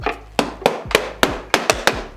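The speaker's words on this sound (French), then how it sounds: "j'y vais avec le dos du marteau parce que vous voyez c'est du métal, c'est du verre" The back of a metal hammer strikes PVC double glazing in about eight sharp, close knocks at an uneven pace, each a bright crack with a short ring.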